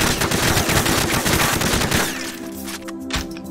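Rapid bursts of automatic gunfire from a video game crackle loudly in close succession, then taper off into sparser shots and lingering game ambience.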